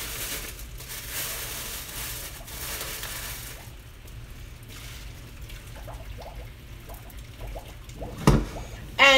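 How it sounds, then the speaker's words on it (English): Liquid poured out of a cooking pot in a home kitchen, a steady trickling, splashing wash that runs for several seconds and ends with a few clanks of the pot. "Now I'm going to just pour it out."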